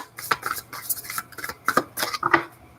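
Tarot cards being shuffled, a series of crisp riffling and tapping bursts in quick uneven clusters, close and clear with no talk.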